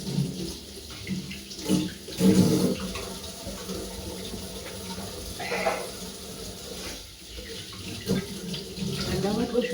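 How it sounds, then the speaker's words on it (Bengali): Kitchen tap water running steadily into a sink during kitchen cleaning, a continuous wash of flow with brief louder splashes and clatter, fairly close, with faint talk in the background. "রান্নাঘর পরিষ্কার করতে গেলে না প্রচুর জল ঘাটা হয়"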